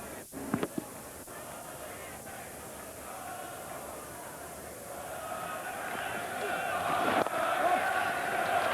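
Spectators at an England versus South Africa Test cricket match at The Oval cheer in a broad, distant roar that builds louder toward the end, with a commentator speaking over the crowd.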